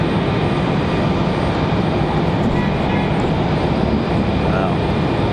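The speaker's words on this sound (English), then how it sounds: "Looks like we're getting ready to have a departure, CRJ 900 for Delta." A Delta CRJ 900 jet departing Raleigh Durham International Airport gives a loud, steady broadband engine roar that fills the whole moment without a break.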